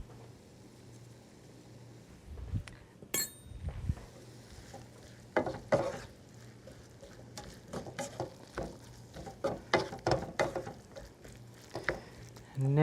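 Sweet potato filling being stirred and mixed in a hot pan, soft irregular scraping and tapping strokes over a faint sizzle, growing busier toward the end, with a voice talking in places.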